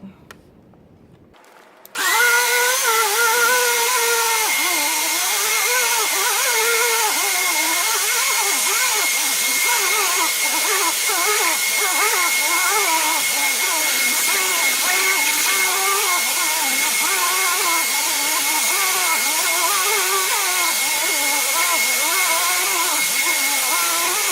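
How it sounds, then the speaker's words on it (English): After a short quiet moment a very old vacuum cleaner switches on and roars steadily, a loud high whine with a shifting rumble as it moves across carpet. "let's see how well this vacuums out of the carpet"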